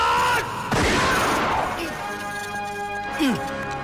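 A loud, abrupt burst of gunfire crashes in early, followed by a lingering noisy tail, with voices and whooshing effects around it.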